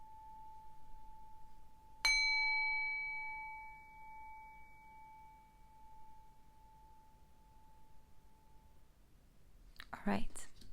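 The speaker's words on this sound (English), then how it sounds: "I'm gonna ring the bell for you a couple times." A single bell struck once, ringing out clearly with a long, slowly fading tone in an otherwise quiet room, followed near the end by a brief soft rustle.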